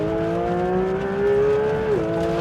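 Porsche 911 GT3 RS naturally aspirated engine at full throttle on a runway, a loud close wail climbing steadily in pitch, then a brief dip near the end as a gear changes.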